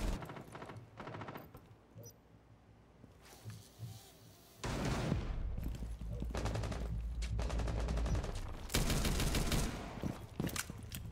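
Rapid SMG gunfire from the 9x19VSN in Rainbow Six Siege, heard in several sustained loud bursts with short gaps, growing denser and louder in the second half.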